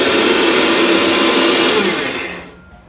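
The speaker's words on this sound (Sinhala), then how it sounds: "බ්ලෙන්ඩර් එකේ ප්ලග් එක ගහගත්තා." A loud electric blender runs steadily, grinding coconut sambol, then cuts out near the end and leaves near silence. No one speaks.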